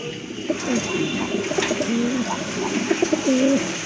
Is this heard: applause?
no